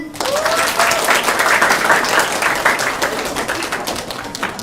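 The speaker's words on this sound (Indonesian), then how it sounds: "kita mengajak kalian untuk tepuk tangan yang paling meriah" Audience applause closing a school theater performance of Babad Dermayu at a festival in Indramayu, loud continuous clapping with crisp individual claps standing out, sustained throughout.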